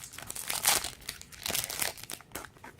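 A Yu-Gi-Oh card pack wrapper crinkles and crackles up close in a continuous series of bursts as it is carefully torn open.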